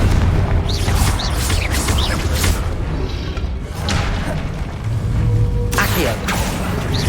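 Fire spell blasts in Hogwarts Legacy, a run of loud booming thuds and whooshes in dense combat noise, with a voice briefly in the mix.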